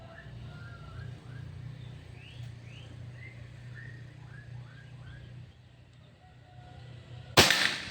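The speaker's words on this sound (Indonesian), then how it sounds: "Oke, ini tembakan pertama." One sharp, loud crack of a Pajero gen 6 airsoft gun near the end, standing out over a low steady hum and faint chirps.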